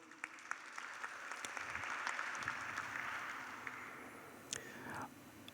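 Faint, distant applause from an audience at a graduation institute ceremony, a continuous patter of clapping held at low level throughout, with a brief whistle-like sound near the end.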